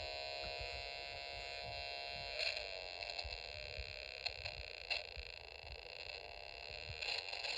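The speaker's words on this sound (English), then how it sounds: "the pitch of the sound is much lower, and it sounds like a race car engine" A steady, buzzy electronic drone from a Snap Circuits Extreme SC-750 kit hums continuously with a rough, low growl like a race car engine and occasional faint clicks, no voices.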